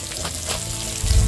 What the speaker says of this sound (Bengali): মাছগুলোকে এইভাবে আস্তে আস্তে করে পাল্টে পাল্টে আমি ভেজে নিচ্ছি।